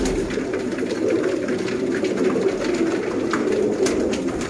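Sialkoti pigeons coo continuously, a low, throaty rolling murmur that sounds close and fairly loud, with faint background noise throughout.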